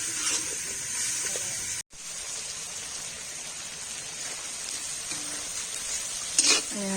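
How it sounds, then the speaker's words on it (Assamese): Chicken meat fries in a pot over a wood fire, giving a steady close sizzle with occasional stirring scrapes, a brief dropout near two seconds and a louder burst of hissing toward the end. "মাংস ভাজি আছোঁ, ৰেডি হ'ব আৰু এতিয়া।"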